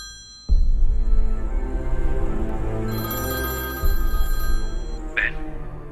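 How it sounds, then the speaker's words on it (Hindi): A telephone rings with a loud, sustained electronic bell tone that repeats after a short pause, with no voices. "थैयल, अपने भाई को फोन लगाकर बात करो।"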